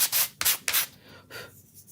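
A chalk-painted craft piece is lightly sanded by hand in short back-and-forth strokes, four or five quick rasping passes, close up and fading toward the end, with no talking.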